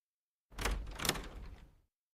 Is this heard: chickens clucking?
no